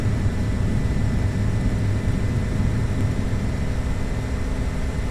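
Piston engines of a DC-3 airliner roar steadily during takeoff in Flight Simulator X, a constant loud low drone with no breaks and no voices.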